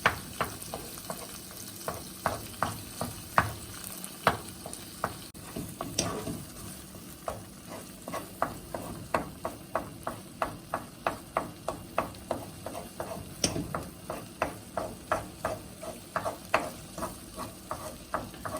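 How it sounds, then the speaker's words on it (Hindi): A spoon stirs and mashes spicy mutton brain masala in a pan. The food sizzles gently while the spoon scrapes in quick, regular strokes that continue steadily throughout. "इसी तरह चम्मच जो है चलाते जाएंगे।"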